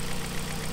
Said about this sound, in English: can hear the engine is running smoothly again